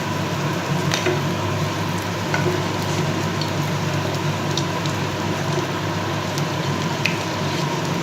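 Eggs fry in hot oil with a steady, close, crackling sizzle, scattered pops rising above a constant hiss, and no talking.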